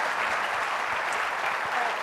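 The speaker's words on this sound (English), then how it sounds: "Big round of applause for that." An audience at a live talk bursts into applause, a dense, even wash of clapping that holds steady for about two seconds.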